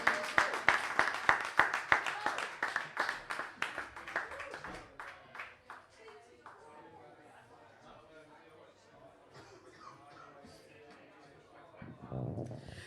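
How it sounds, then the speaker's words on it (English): An audience at an intimate acoustic music night applauds after a live song. Brisk, close clapping is strong at first, then thins and fades over several seconds into quiet chatter and talking. "Give her another big round of applause"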